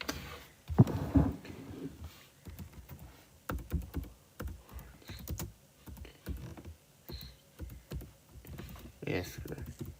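A computer keyboard clatters in irregular bursts of quick keystrokes, close and fairly quiet, with pauses between runs.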